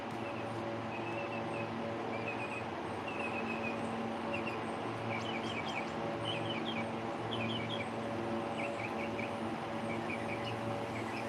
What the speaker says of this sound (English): You heard how many times it chirped like that?